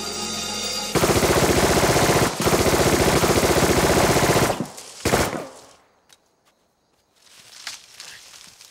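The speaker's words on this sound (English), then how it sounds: "Shooting." Rapid automatic gunfire roars loud and close in a continuous burst lasting several seconds, breaks off, then a final blast is followed by near silence and faint rustling.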